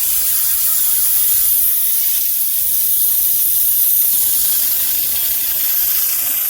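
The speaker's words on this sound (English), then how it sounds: "You can see that one's spraying water really good down there." A steady, loud hiss of water spraying from an underground sprinkler system's head runs unbroken throughout, with no voices and little change in level.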